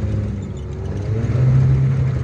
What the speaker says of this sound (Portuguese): O roncado do motor.